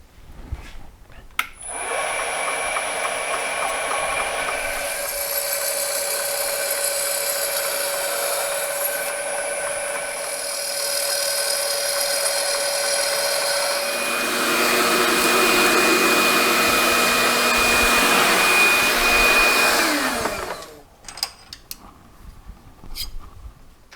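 Drilling a hole in metal on a rotary table while fabricating a bandsaw belt guard: a loud, continuous whining machine drone with shifting tones, grinding harder toward the end before stopping abruptly, followed by a few clicks and clatters.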